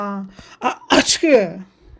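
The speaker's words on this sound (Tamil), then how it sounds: "ஏண்டா இதை சொல்லும் போதே இவ்வளோ தும்மிக்கிட்டு இருக்க?" A child-like voice acts out a sneeze, with a short burst and vocal gasp-like sounds in a cartoon doll scene, surrounded by brief speech-like vocalising.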